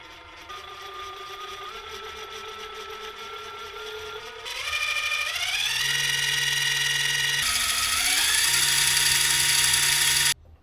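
Steady electric outboard boat motor whine, a Torqeedo Ultralight 403, that climbs in pitch in steps, growing louder and brighter, then cuts off abruptly at the end.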